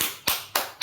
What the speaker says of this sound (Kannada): ಚಪ್ಪಾಳೆ ಬಾರಿಸ್ರಿ ಎಲ್ಲ